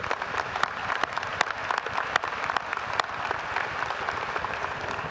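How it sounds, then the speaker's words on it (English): Sustained applause for university staff at a winter commencement ceremony, a dense steady patter of many hands clapping with a few sharper, louder claps popping out over the 5 seconds. "How about a round of applause for them"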